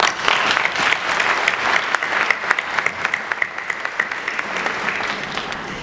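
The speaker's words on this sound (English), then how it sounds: "Côte d'Ivoire deserves a round of applause for that" An audience at an embassy speech in Côte d'Ivoire breaks into warm applause, dense clapping close and loud at first, then thinning to scattered individual claps over about six seconds.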